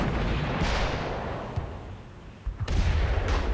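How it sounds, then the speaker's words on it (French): Heavy cannon fire for a WWI battle scene near Seicheprey in Lorraine, with a continuous low rumble and a few sharper booms rising out of it. The sound is loud and dense, with no talking. "Mais soudain, des coups de canon tonnent."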